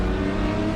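Race car engine in the racing sim Raceroom, held at high revs in a steady, loud buzzing drone through a brief moment, heard alone.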